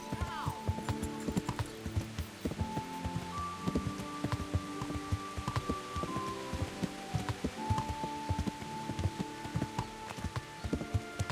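Rain in Kingdom Come: Deliverance pattering over a dense run of hoof clip-clops, with a few sustained tones drifting in and out.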